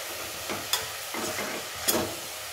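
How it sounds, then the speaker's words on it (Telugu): Sweet corn kernels, already boiled, stirred and fried in a pan for a snack, giving a soft steady sizzle with three brighter scraping stir strokes spaced about a second apart; no voices. "ఒక 1 minute అన్నీ కలిసే వరకు ఫ్రై చేసుకోవాలి."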